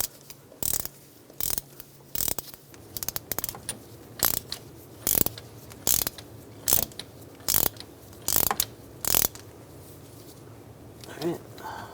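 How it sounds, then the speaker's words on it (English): A ratchet wrench drives a crankshaft pulley installer tool on a 2007-2014 Cadillac Escalade 6.2L V8, producing about a dozen sharp, close clicking bursts at a steady rhythm, with no one speaking. "As we tighten it, it's going to pull the pulley in."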